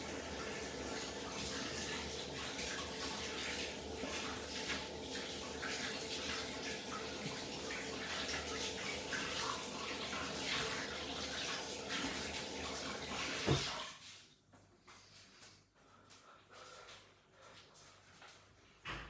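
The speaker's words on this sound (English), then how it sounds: "I'm just going to give my hands a quick rinse" Tap water runs steadily while hands are rinsed under it, a close, continuous splashing hiss that cuts off abruptly, leaving quiet room noise.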